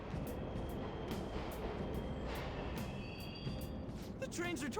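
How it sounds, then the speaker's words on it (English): Subway trains run in the video game Persona 5 Royal, a steady low rumble of rolling rail noise filling the scene with faint rhythmic clacks, while a voice speaks near the end. "The trains are totally running."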